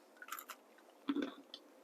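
Someone bites and chews a piece of warm coconut and raisin rock cake, with a couple of soft crunchy, moist chewing bursts close to the mouth and no talking.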